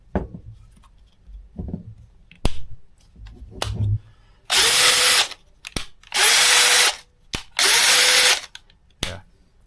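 Craftsman brushless cordless drill from an Rp+ combo kit (CMCK2530C2) runs in three loud, sustained bursts of a few seconds each with brief pauses, after some quieter clicks and handling knocks, up close and without talk.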